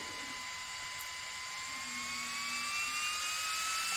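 A K813 mini handheld fan runs on low power, giving a steady close whirring motor whine with a faintly rising tone, alone without talk.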